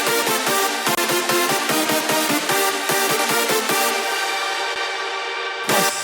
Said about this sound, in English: the main thing is going to be these big chord stab leads